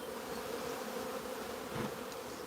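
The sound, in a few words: honey bees buzzing during a nuc transfer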